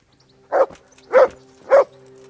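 Dog barking in the video game Kingdom Come: Deliverance: three evenly spaced, loud, close barks over a steady low background hum, with no talk.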